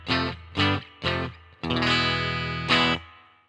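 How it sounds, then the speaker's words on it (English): An electric guitar through an amplifier with reverb added strikes three short chords, then one long sustained chord with a final accent, each note ringing out and trailing off in a wash of reverb. "it really starts to bring the amp to life when you start introducing a little bit of reverb."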